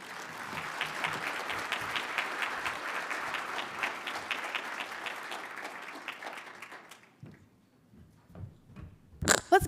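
A conference audience at Net Inclusion 2025 gives the lightning-round speakers a steady round of applause lasting several seconds, then it fades out, leaving a few faint rustles and knocks.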